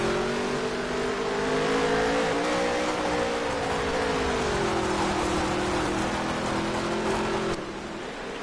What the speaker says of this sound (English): How quickly this racetrack clogs with race cars.